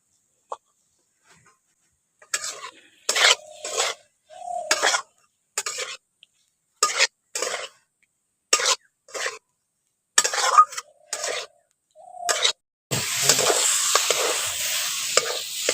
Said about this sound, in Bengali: এখন ওলটাকে একটু ভেজে কষে নিয়েছি